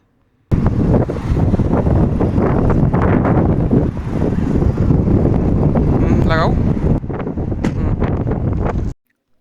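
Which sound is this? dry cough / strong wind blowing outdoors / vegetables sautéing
strong wind blowing outdoors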